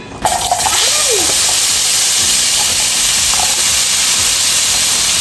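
Carrots dropped into hot cooking oil and frying with a loud, steady hiss and sizzle that starts abruptly and holds close for the whole stretch.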